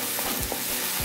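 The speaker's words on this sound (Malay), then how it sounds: "tumis hingga sedikit wangi dan naik minyak" Spices and bay leaves sizzle and crackle in hot oil for sayur lodeh, a steady frying hiss with soft stirring scrapes, no voices.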